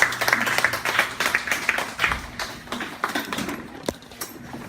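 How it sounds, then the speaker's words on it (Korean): Audience in a church lecture hall giving a round of applause, a burst of clapping from a small crowd that fades unevenly over a few seconds, fairly close. "박수 한번 주세요"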